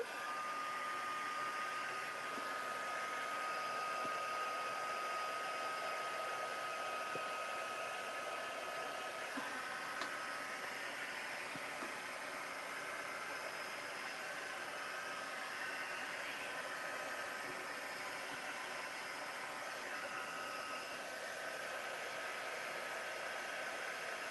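Steady hiss and whir of a hair dryer drying a mixed media artwork, running continuously at moderate volume for the whole stretch with no talk.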